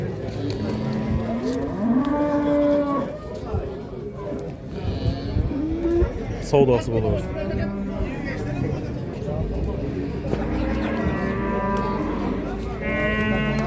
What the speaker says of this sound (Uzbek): Zo'r ho'kiz ekan lekin.